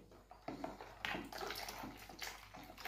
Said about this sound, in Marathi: 1 वाटी पूर्ण पाणी याच्यामध्ये टाकलं